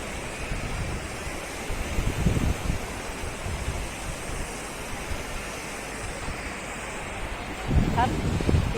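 Continuous roar of rough sea waves with wind buffeting the microphone, swelling slightly near the end, someone talking faintly underneath.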